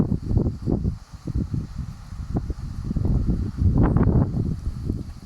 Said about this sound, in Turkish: Rüzgar sesi geliyorsa kusura bakmayın.